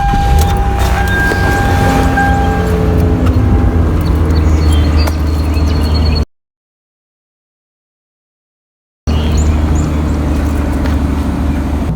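A car engine cold-starts for the first start of the day and settles into a loud, steady idle with a droning hum and faint whine, cut by a few seconds of silence before the same idle resumes.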